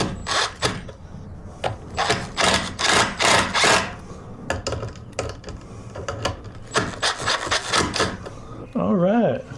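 Screws being driven into wood through pilot holes while building drop-down storage bins, with loud repeated bursts of drill or driver whirring and gaps between them.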